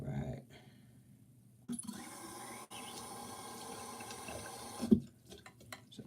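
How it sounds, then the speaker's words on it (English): Water poured into a pot while cooking: a steady running, splashing pour lasting a few seconds, fairly close and moderately loud, ending with a brief clatter. "So added just a little bit more water here."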